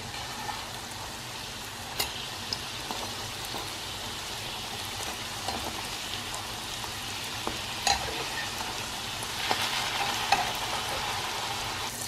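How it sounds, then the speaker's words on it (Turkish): Chocolate-filled pişi dough frying in hot oil, a steady crackling sizzle with occasional sharper pops, close up and with no voices. "Güzelce kızarıyor."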